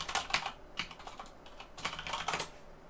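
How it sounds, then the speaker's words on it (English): Typing on a computer keyboard while setting up Python 3 on Linux: bursts of quick, close, crisp key clicks in uneven runs with short pauses, no talk. "when you see me typing in Python and then the file name"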